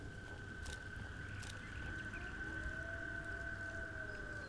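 A wolf howls in the VR hunting game Legendary Hunter, a faint, drawn-out tonal wail that rises and holds over a steady low background hum, with a couple of soft clicks early on.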